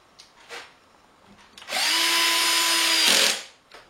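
A power drill drives a screw into wood in one steady whirring burst of about a second and a half, preceded and followed by faint handling knocks.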